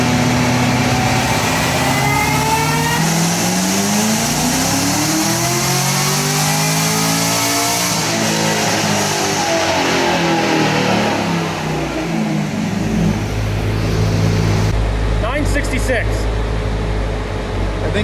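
Supercharged Camaro ZL1 on a dyno during a full pull, its engine rising loud and steadily through the revs with a whining pitch sweep as the supercharger belt slips, then settling into a heavy low drone before it cuts back.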